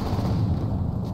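Frag grenade explosion in Apex Legends: a deep, heavy boom with low rumble that stays loud and sustained.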